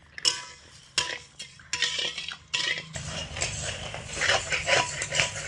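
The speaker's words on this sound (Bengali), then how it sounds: "এইভাবে বন্ধুরা অনবরত নাড়াচাড়া করে চিনির রস একদম ঝুরো করে নিতে হবে।" Sugar syrup for besan laddu stirred continuously in a pan, with sharp metal clinks of the spoon against the pan, then a denser run of scraping and rattling.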